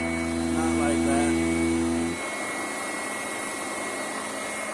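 A Sanitaire SC881 upright vacuum cleaner runs on a back porch, its loud steady motor drone with tonal hum filling the first two seconds, then dropping to a lower, rougher roar for the rest.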